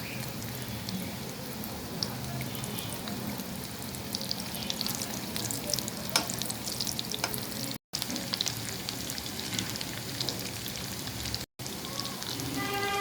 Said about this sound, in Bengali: ডোনাটের এক পাশ ভাজা হয়ে গিয়েছে, এখন উল্টে নিচ্ছি